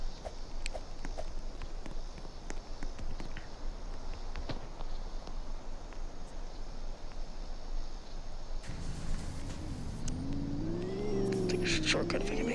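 A drift car driving through mud, with a steady engine drone, spattering and clattering, then revving rising in pitch near the end, recorded close on board.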